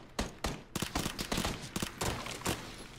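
Micro Uzi submachine gun fire in PUBG, loud, sharp bursts of shots in quick irregular succession across the whole stretch, with no voices.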